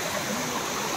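Water rushes steadily over Bhushi Dam as it overflows after heavy rain, a dense, continuous close roar of flowing water with no voices.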